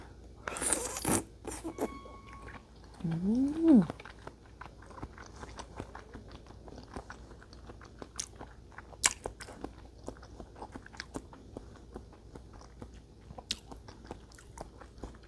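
Chewy grape-flavoured candy is bitten and chewed up close, with a crackly wrapper or tearing rustle at the start followed by soft, sticky mouth sounds and scattered small clicks.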